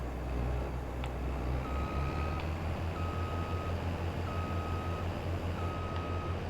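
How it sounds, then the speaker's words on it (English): Tractor reversing beeps from the Farming Simulator 22 video game repeat at an even pace over a continuous low engine rumble, with no talk. "We're gonna hear beeping for the next minute. Because I was backing up."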